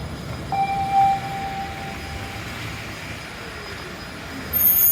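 A Toronto Line 6 Finch West light rail train rumbles steadily along the track, with thin metallic wheel squeals ringing over the low, continuous roar.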